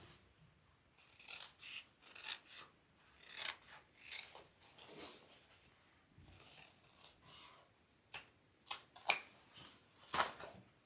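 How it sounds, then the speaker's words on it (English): Scissors trimming the fabric seam allowance on a sewn shoulder bag, a series of close, soft snipping cuts coming in uneven bursts with short pauses between them. "I'm going to trim this seam allowance down where the hole isn't"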